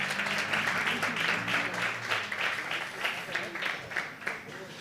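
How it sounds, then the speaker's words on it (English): An audience at a business workshop bursts into a sustained round of applause, thick and continuous with rhythmic clapping pulses, while voices murmur underneath. "I think we can give her a round of applause for that."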